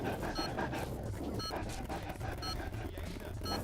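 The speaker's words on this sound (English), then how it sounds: "Yeah, just walking the dog." Rapid, steady panting of a dog on a walk in the video game Tony Hawk's Underground, running the whole time under a busy mix of game sounds with a few bright beeps.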